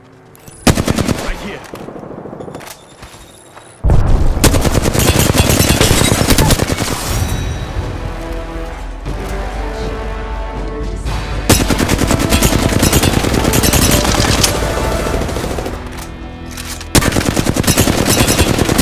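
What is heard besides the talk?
gunfire in Apex Legends video game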